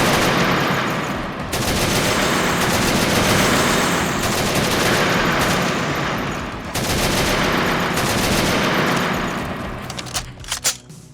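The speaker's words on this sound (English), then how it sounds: "when you're quickly firing them, the gun's sounds play over each other" A dense, continuous barrage of rapid overlapping gunfire from the first-person shooter game Dead Trash, the shots blurring into one loud roar for about ten seconds before breaking into a few scattered final blasts.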